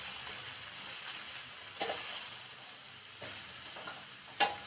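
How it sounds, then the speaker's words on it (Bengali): Mushrooms being stirred into a little oil in a pan, a soft steady sizzle broken by a few scraping spatula strokes and a sharp clack at the close. "মাশরুম গুলোকে দিয়ে একটু তেলের সঙ্গে মিলিয়ে নেব।"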